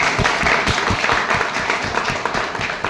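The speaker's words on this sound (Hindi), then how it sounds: "तो मैं चाहूंगा एक बार अपने सम्मान में जोरदार ताली बजाएं।" Audience applause in a hall at a business gathering, a dense sustained wash of many hands clapping at steady loudness for about three seconds, with thumping low claps close by.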